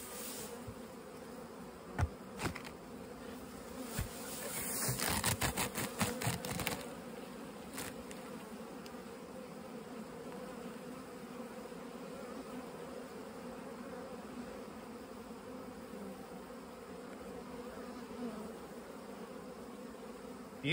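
Carniolan honeybees hum in late-season bulk hive splits, a low, continuous buzzing drone close by, with a few brief knocks and rustles of handling the frames early on.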